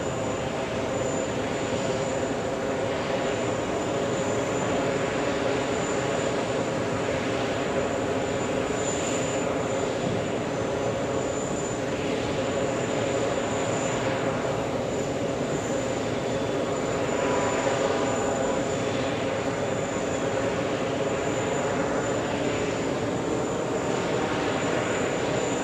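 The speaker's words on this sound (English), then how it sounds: "We have Qatar A350" A Qatar Airways Airbus A350 at JFK airport gives a steady, broad engine roar that holds at an even level throughout, with no voices over it.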